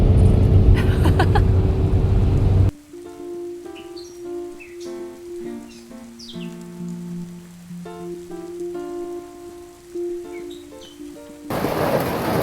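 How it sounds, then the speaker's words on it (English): Heavy rain pours on an Airstream RV parked at a rest stop in Algonquin Park, a loud steady roar at the start and end, with music playing in between that covers it. "it's pouring rain"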